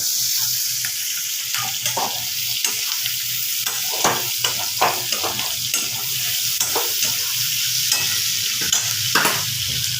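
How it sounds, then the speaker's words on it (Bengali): Onion, garlic and green chillies fry with a constant bright sizzle, and frequent spatula scrapes and taps sound against the pan throughout, close and fairly loud. "পেঁয়াজ রসুন কাঁচা লঙ্কাগুলোকে আমি একটু ভাজা ভাজা করে নেব"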